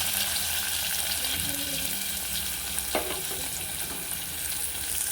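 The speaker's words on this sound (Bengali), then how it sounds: "পেঁয়াজটা একটু ভাজা হয়ে গেলে মিক্স করে ভালোভাবে ভেজে নিতে হবে।" Chopped onions frying in oil in a pan, a continuous close hissing sizzle with occasional stirring scrapes.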